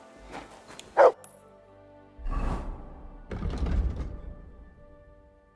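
A dog in Kingdom Come: Deliverance II lets out one sharp, close bark early on, followed by low rumbling thuds and movement noises.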